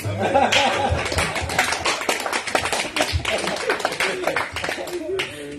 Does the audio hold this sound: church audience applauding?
yes